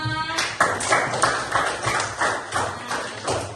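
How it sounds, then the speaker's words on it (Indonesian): A class of students claps their hands together in a classroom, producing a regular series of loud, sharp, even bursts in steady rhythm. "Tepuk tangan untuk kita semua"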